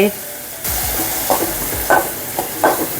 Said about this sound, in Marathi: कांदा टाकला आहे सोबतच टॅमॅटो पण टाकूया दोघं छान शिजतील एकत्र